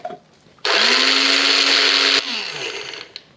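Mixer grinder whirs loudly grinding fenugreek, cloves and black pepper for mango pickle spice, a single sustained burst of about a second and a half that winds down afterward, with quiet handling before it.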